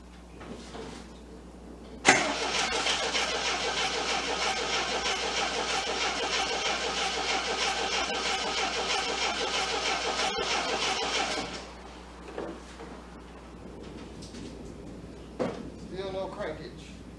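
A 1979 Triumph TR7 engine cranks steadily for about nine seconds without catching, a loud continuous whirring churn that stops abruptly, followed by quieter clunks and handling noises.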